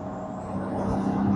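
A Porsche GT2 RS engine pulls hard under acceleration, a dense steady roar that builds gradually in loudness and pitch over a second and a half, close and with no talk over it.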